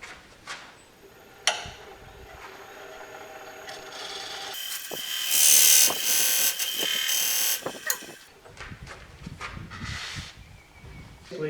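A turning tool scrapes and cuts a large spalted cherry bowl spinning on a lathe, with rasping wood contact that rises into a loud, sustained hiss, then drops back to softer scraping.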